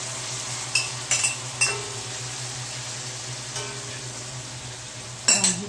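Apples sizzling in a very hot pan, a steady close frying hiss broken by several sharp metallic clinks and scrapes of a utensil against the pan.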